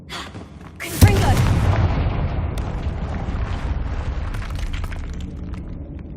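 A Confringo fire spell in Hogwarts Legacy bursts with a sudden loud boom after a quiet moment, then trails off in a long rumbling roar with scattered crackles.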